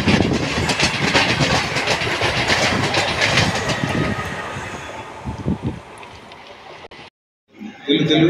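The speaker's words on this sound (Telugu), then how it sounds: "ట్రైన్ మూవ్మెంట్ కూడా చూడండి కొంచెం." A train rumbles and clatters loudly past at a railway station in Nellore at night, wheels rattling steadily over the track before the noise fades, cuts briefly to silence, then a burst of other sound; voices are faintly mixed in.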